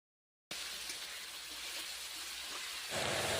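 Marinated chicken being stirred in a hot pan, a steady close sizzling hiss that starts abruptly and grows slightly louder and brighter toward the end, with no talking.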